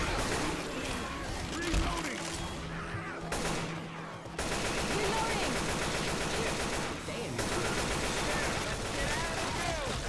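Dense, continuous gunfire in the zombie shooter Left 4 Dead, rapid shots running nearly the whole time over a loud, busy game mix, with a brief dip midway before the firing resumes.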